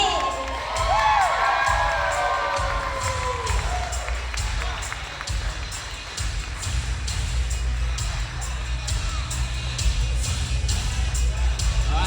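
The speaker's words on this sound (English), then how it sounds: "Keep your hands clapping, ladies and gentlemen" Wedding guests cheer, whoop and clap loudly as a crowd through the whole stretch, with shouts rising over steady applause at a reception entrance.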